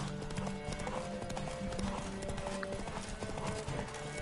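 Galloping horse hooves pound in a rapid, steady rhythm during a race in The Witcher 3, continuous and fairly close, with faint game sounds underneath.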